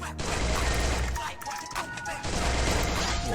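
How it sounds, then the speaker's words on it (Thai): Rapid gunfire from an MP gun in a video game sounds as a dense, continuous stream of shots, loud and close, dipping briefly in the middle before the bursts resume. "มันยิงโดนแต่หัวไง แล้วมันยิงเร็วด้วยนะ"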